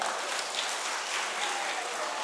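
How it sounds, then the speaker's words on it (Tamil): Audience applause at a school event at ATS Matric School in Mayiladuthurai, a steady dense patter of clapping at moderate distance, continuous throughout. "நல்ல கைத்தட்டலாம்."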